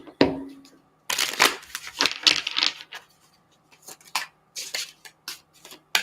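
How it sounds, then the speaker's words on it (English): Tarot cards are shuffled in several short riffling bursts, crisp and close, separated by brief pauses. "So now we give this a shuffle and we continue."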